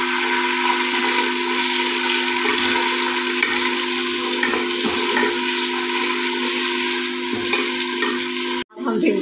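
Chicken frying with chillies in a pan gives a steady, loud sizzle and hiss that runs unbroken for the whole stretch, broken only by a brief dip near the end, with no voices.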